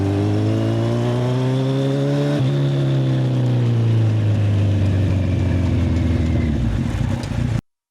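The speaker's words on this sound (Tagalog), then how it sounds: "the microphones are also hearing the exhaust sounds near my back" Motorcycle exhaust roars steadily and close while riding, the engine note rising and then falling through gear changes, loud and continuous throughout before cutting off abruptly.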